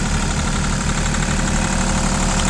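Small ISEKI TU150 tractor diesel engine idling steadily up close in cold weather, an even, continuous mechanical chug with a faint knocking texture throughout.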